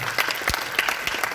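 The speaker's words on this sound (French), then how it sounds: "Je vous demande de les applaudir très très fort" A theatre audience applauds film actors on stage, a loud, dense clapping with a few sharper individual claps standing out, and no talking.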